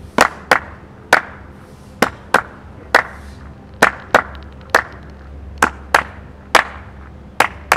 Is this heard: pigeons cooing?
no